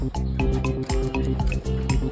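Pani puri water drips and splashes in a rapid, uneven series of wet drops and squishes, close and fairly loud, during a golgappa eating challenge.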